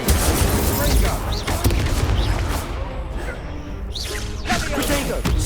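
A fire spell is cast in a wizarding video game, producing a dense roaring burst of crackling flames and whooshes that sustains throughout, with rumbling low booms mixed in.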